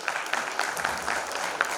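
Thin, scattered clapping from a conference audience at a digital transformation awards inauguration in Guwahati, Assam, a handful of sharper claps standing out over a soft, even wash.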